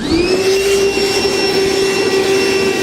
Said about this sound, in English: go ahead and use a vacuum and clean up all the shavings that are left behind